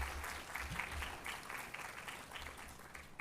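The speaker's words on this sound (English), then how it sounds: "So let's give them a big round of applause." Audience at a women in AI workshop event applauding, a continuous faint wash of many hands clapping heard from a distance, steady without a break.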